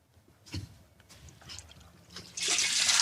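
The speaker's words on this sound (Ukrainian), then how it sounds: "Ну що, відкриваємо краник." A tap on a container is opened and liquid organic garden fertilizer starts flowing out, faint knocks and trickles giving way to a steady, fairly loud gush of pouring liquid.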